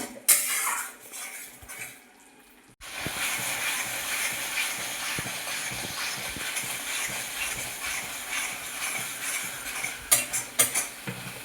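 Masala spice paste being stirred and sautéed in a pan for a cashew mutton curry, with steady sizzling and scraping utensil clatter throughout after a brief quiet start, ending in a few sharper clinks; no talk.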